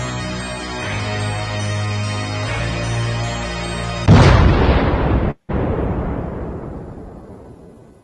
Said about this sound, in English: That was the most cartoony explosion sound effect I've heard at the end of that video.